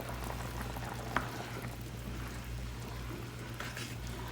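A pot of Haitian black rice (diri djon djon) with cashews bubbles at a steady boil while it is stirred, with a low continuous rumble, one sharp clink of the spoon, and faint scraping alone without talk.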